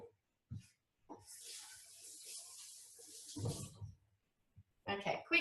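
Ginger root rinsed under a running kitchen tap, a steady hiss of water lasting a few seconds before stopping, with brief handling knocks before and after and a short burst of noise at the end.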